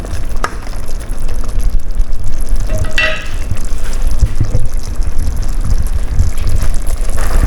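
Snails, or caracoles, cook in a covered pot with a loud continuous bubbling sizzle, steady throughout with a brief clatter near the middle and no voices.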